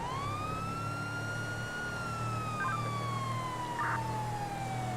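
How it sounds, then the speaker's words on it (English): A police siren wails continuously in the GTA 5 video game, sweeping slowly up and down at a steady, fairly close level over a low rumble. "I'm lights and sirens right now."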